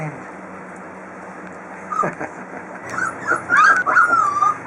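Puppies whimper and let out high yips, several short squeaky cries clustering together over a steady background hum, growing busier toward the end.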